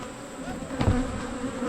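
Honey bees buzz steadily around an opened backyard beehive during an early August inspection, a close, continuous drone with a brief louder swell in the middle.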